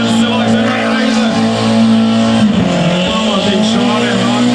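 At a burnout challenge in Priekule, Latvia, a car holds a loud, sustained burnout, its engine droning high as the tires squeal continuously, close and dominant throughout.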